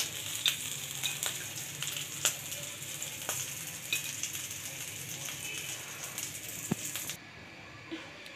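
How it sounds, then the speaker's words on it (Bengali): Chicken boti kabab pieces sizzle steadily in mustard oil, a dense, even frying hiss with occasional soft pops and light stirring clicks, close and continuous before dropping away near the end. "এখন আমি বাকিগুলো এভাবে ভেজে নিই আমি আরেকবার একটু সরিষা তেল দিয়ে দিয়েছি"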